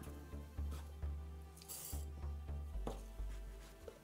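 Small seeds of coriander, toasted hemp and fennel pour and rattle into a coffee grinder, with a close, gritty scattering punctuated by several dull knocks and shifts of the container.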